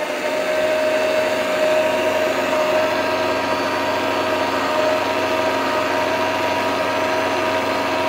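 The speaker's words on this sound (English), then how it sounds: "There's a little fan here that blows air out over the pasta, which helps to dry it out a little bit." A Popeil pasta machine hums steadily with its small drying fan blowing air over fresh pasta, a constant close whirring motor tone with a faint high whine and no talking.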